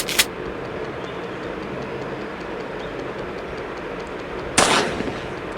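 Two sharp gunshots from the horror video game Granny Chapter Two, one at the start and another near the end, each with a short ringing tail over a steady low rumbling game background.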